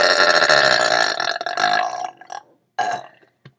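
A boy lets out a long, loud, croaking burp close to the microphone, followed after a brief pause by a shorter second burp.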